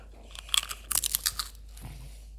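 A young child chewing and biting crunchy food up close, with a few clustered crunchy bites followed by quieter mouth sounds and no talking.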